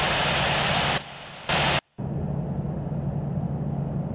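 A Qatar Airways Airbus A380 in Infinite Flight roars down runway 08 right at Miami on its takeoff roll. The engines give a steady, loud, broadband rush that drops out for a moment, then resumes strongly.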